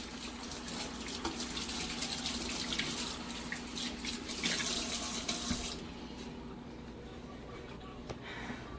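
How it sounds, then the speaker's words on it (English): A kitchen tap runs steadily while a hand is rinsed under it, a close, loud hiss of water that turns softer partway through. "I'm just gonna rinse my hand."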